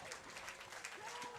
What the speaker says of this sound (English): It's a round of applause from the crowd.